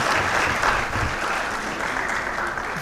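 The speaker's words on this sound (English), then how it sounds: "I want us to give a big round of applause to our panelists" Applause for panelists at a social good summit in Ghana, a steady wash of clapping from an audience that holds evenly for a few seconds with no talk over it.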